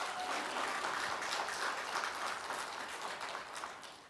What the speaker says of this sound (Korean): 큰 박수 안 나옵니까?